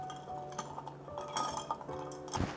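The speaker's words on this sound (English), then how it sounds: "Now let's just give this a gentle stir." A Negroni Sbagliato with Ford's gin being stirred gently in a glass, giving soft repeated clinks and scrapes of a spoon against glass and ice, ending in a brighter clink.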